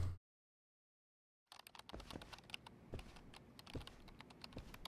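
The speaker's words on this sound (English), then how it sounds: "Typing intensifies." Rapid typing on a computer keyboard in the game Lost Judgment, a dense, steady patter of close key clicks that begins after a short stretch of silence.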